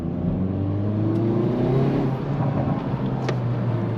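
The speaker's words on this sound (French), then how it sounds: "On a un retour à l'échappement, donc très plaisant." A 275-horsepower Hyundai i30N Performance engine revs hard up close, pitch rising and then easing, with sharp exhaust crackles near the end and no talk.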